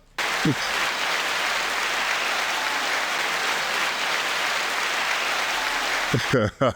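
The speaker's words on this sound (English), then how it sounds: "9-second applause" Sustained, dense applause runs steadily for several seconds, with a voice briefly at the start and end.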